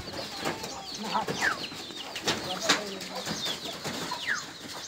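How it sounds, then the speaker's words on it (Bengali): Native pigeons flock in to scattered paddy grain, wings flapping and bodies scuffling close by in short bursts, with soft cooing and chirps throughout. "বেরিয়ে এলো সব কবুতর"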